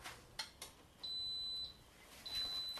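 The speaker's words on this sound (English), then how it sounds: "Okay, you can hear that it's beeping." An Instant Pot pressure cooker gives high electronic beeps, a sustained tone then another after a pause, mixed with a couple of clicks in a quiet room.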